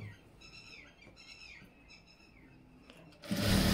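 A sewing machine stitches over fabric lining with a whirring, rising and falling whine, then a sudden harsh burst of louder noise at the end.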